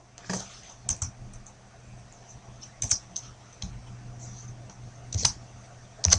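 Typing on a computer keyboard while coding JavaScript, with sparse, faint key clicks in small clusters separated by pauses and a low hum underneath.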